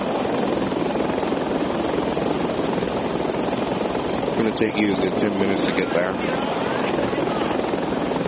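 A military helicopter in a desert combat video game drones loudly and steadily throughout, a dense rotor roar with a voice talking over it.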